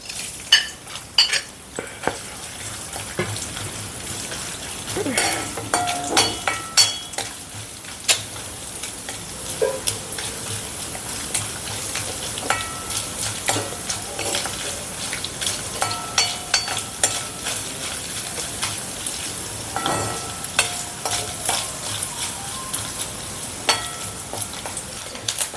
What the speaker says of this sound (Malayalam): അടുത്ത നമുക്ക് ഈ തേങ്ങാക്കൊത്തും കൂടെ വറുത്ത് കോരിയിടാം.